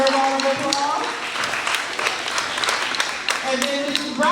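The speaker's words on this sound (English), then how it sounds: "Let's give her a round of applause." Students and families at an end-of-year school ceremony give a teacher a round of applause, a dense patter of many hands clapping at moderate distance, with an adult voice talking at the start and end.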